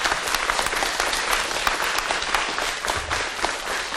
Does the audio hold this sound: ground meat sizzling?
no